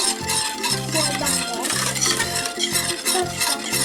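A child stirs thickening pudding (muhallebi) in a pot on the stove, the spoon scraping and clinking around the pan in a steady repeating rhythm, close and fairly loud with no talking.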